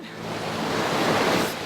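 Hot water of the boiling river at Agua Caliente rushes steadily, a broad, loud wash of flowing water that swells slightly and continues without talking.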